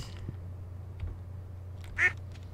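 Ducks in the farming game Stardew Valley give a single short quack near the end, heard over a steady low hum with faint game sounds.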